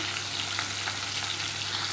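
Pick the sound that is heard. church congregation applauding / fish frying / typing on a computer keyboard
fish frying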